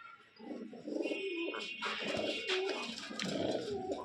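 Pigeons from a white running pair, a female and a male with feathered feet, coo in soft repeated phrases at close range, with faint chirps around them and no talking.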